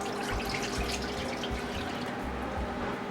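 Water runs steadily into a cooking pot, a continuous close splashing pour with no talking.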